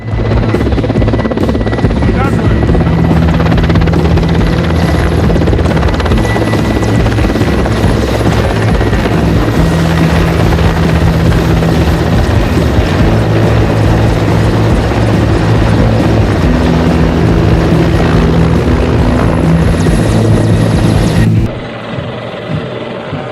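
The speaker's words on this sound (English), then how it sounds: "The Mi helicopter's aerobatics prove that having a great aircraft is one thing" A Mi helicopter performing aerobatics at an Indonesian Army anniversary parade roars loudly and steadily, rotor thumping throughout with a rising and falling drone, then cutting off abruptly near the end.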